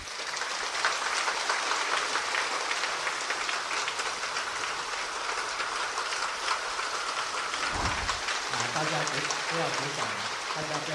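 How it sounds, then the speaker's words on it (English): Audience applause at a temple dharma talk by a religious leader at Lei Tsang Temple, Taiwan: steady, dense clapping fills the hall before fading, with a speaking voice coming in at the end. "Please don't clap."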